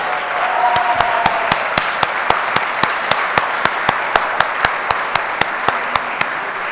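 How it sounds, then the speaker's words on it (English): University lecture audience applauding a staff member, a steady crowd clapping wash with one loud nearby clapper beating a regular, evenly spaced rhythm over it throughout, and a brief voice early on. "can you stand up so we can give you a big round of applause"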